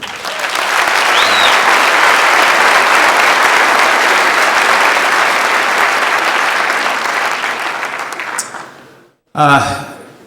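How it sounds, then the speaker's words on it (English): An audience at the National Cowboy Poetry Gathering gives a big round of applause for the sponsors, loud and sustained for about eight seconds before fading, then a brief burst of clapping or voice near the end. "how about a big round of applause for the sponsors of the gathering"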